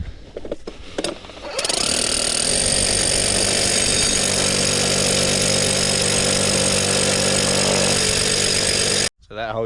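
A power drill boring a hole into granite rock for a retaining wall job, a steady loud grinding whine that runs unbroken for about seven seconds after a few brief starts, then cuts off abruptly.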